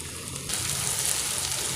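Onions and tomatoes sautéing in a pan for prawn thokku, with a steady, fairly loud sizzle that brightens after a brief moment and carries on evenly; no talking.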